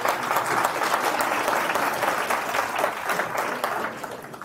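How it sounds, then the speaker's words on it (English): Conference audience at FOSDEM 2020 applauding to welcome a speaker, a sustained even burst of many hands clapping that fades slightly toward the end, with no talk over it. "please give a warm welcome and round of applause"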